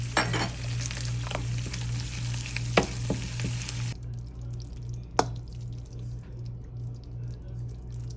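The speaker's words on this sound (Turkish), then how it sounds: "Salçamızı güzel kavurduk." Tomato paste and chili powder fry in a pan with a steady sizzle, a few clinks and stirring taps early on, and one sharp knock partway through.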